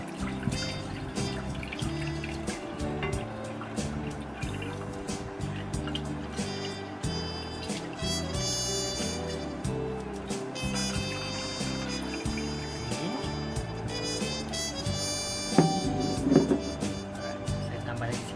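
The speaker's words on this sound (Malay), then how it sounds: "so first kita akan tuangkan dulu air ni" Water is poured into a container while making a decorative wedding gift arrangement, giving a steady trickle and splash under continuous talking and background music.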